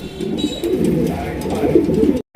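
Cream bar pigeons coo in a low, continuous rolling murmur, close and fairly loud, ending abruptly.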